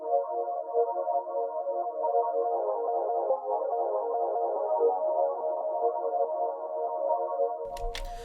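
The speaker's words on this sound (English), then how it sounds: "So I started adding Shaperbox for a stutter effect" Sustained synth pad chords chopped into a rapid rhythmic stutter by a ShaperBox effect, pulsing evenly at a moderate level before cutting off abruptly near the end.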